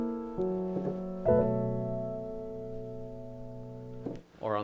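Sustained keyboard chords walk upward chromatically in a few stages, each held for a while, played alone and fairly quietly.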